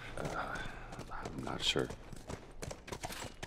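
Horse hooves clip-clop in the video game The Last of Us, a steady walking rhythm under close conversation between two voices.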